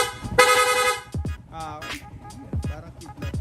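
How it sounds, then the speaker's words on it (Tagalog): A Yamaha Sniper 150 motorcycle's rapid horn blares in quick bursts, several toots in a row, loud and close, with a short pause between sets. "Nag-install din tayo ng rapid horn."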